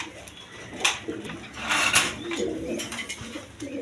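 Pigeons kept for sale cooing softly with a few fluttery rustles and clinks, fairly close, in a steady low murmur.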